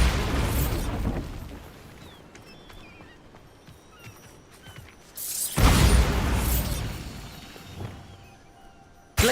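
The Bombarda spell in the video game Hogwarts Legacy explodes in loud, close booms: a blast at the start, a bigger burst about halfway through that rumbles and fades, and another hit right at the end.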